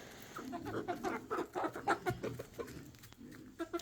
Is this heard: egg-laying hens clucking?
yes